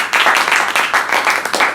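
An audience at a Toastmasters meeting gives a short burst of applause, many hands clapping in a dense, loud patter that fills the room.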